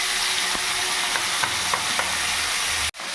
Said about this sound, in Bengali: তেল গরম হয়ে গেছে, এবার আমি মাছ দিয়ে দেবো।